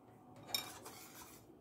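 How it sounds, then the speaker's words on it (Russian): Milk being stirred in a pot on the stove for a chocolate cake, giving a faint scrape and clink of a utensil against the pot, with one brief sharper tap in a quiet kitchen. "Ставим на плиту, постоянно помешиваем."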